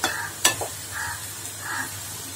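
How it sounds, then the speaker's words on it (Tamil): Carrot, beans and cabbage stir-fry is stirred in a pan, with a few sharp scraping strokes over a low, soft sizzle, close by and fairly quiet. "இதை கிளறிக்கோங்க."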